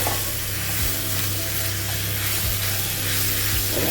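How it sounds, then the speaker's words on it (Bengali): Minced chicken frying in a pan hisses with a continuous dense sizzle, while a spoon scrapes through it in slow, regular strokes about once a second; no one speaks. "মোটামুটি আস্তে আস্তে ভাজা ভাজা হবে"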